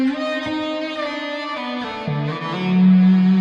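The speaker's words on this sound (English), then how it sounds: "sounds like some reverse delay going on here" Guitar played through a reverse delay effect, sustained tones that swell and shift in pitch with smeared, backward-sounding echoes, loud and alone with no talking.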